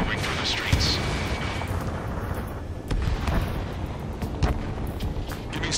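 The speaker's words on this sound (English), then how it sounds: "Gunfire and the roar of jets echoing through the streets." Battle sounds from the Ace Combat 7 flight combat game, with dense gunfire and booming blasts over a continuous roaring jet rumble, loud and unbroken throughout.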